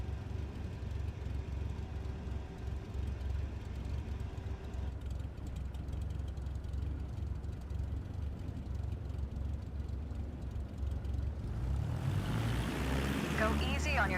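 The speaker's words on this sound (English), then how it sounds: "gently increase throttle to get the aircraft moving" A propeller airplane engine in Microsoft Flight Simulator 2024 hums steadily at low throttle, then swells to a louder, rising drone near the end as power increases. A voice talks faintly over it.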